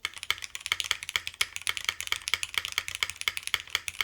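Rapid clacky typing on a 60% mechanical keyboard with Nixie switches on an FR4 plate, steady close-miked keystrokes in an uneven flurry with crisp bright clicks, no talking.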